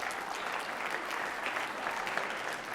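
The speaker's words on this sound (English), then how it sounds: "Clap it up." A scholarship meeting audience claps steadily throughout, a dense and even wash of applause at moderate volume with no break.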